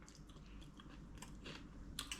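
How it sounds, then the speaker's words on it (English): Someone chews a mouthful of homemade potato salad with crunchy celery, onion and sweet relish, giving soft, close bites and a few sharper crunches with no talking. "You can taste the crunchiness of the celery and the onion"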